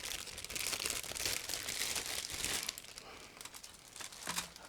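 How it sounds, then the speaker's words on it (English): A plastic bag holding two sprues from a Nunu Models 1/24 Honda Civic EF9 kit is opened, giving steady close crinkling and rustling that rises and fades over several seconds with no talking. "I'm just opening the plastic bag with 2 sprues inside."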